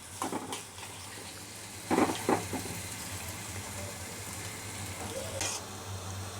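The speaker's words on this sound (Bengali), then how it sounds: "দেখেন পেঁয়াজ কিন্তু এখন ভাজি হচ্ছে" Onions and garlic sizzle steadily in a pan, with a few louder stirring scrapes and clatters against the pan breaking through the constant frying hiss; no one speaks.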